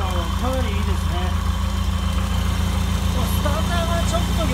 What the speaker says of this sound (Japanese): アイドリングの安定感はかなりいいですね